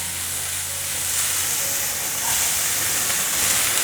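Rice beans, carrot and mushrooms stir-fried quickly in a hot wok give off a continuous, even hiss and sizzle, close and steady throughout with no talk.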